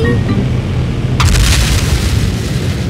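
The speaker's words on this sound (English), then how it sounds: "I think I heard an explosion in the living room" A deep booming explosion in Minecraft bursts in with a crackling rush of debris, loud and sustained over a low rumble.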